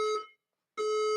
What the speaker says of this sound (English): Warning. The fire alarm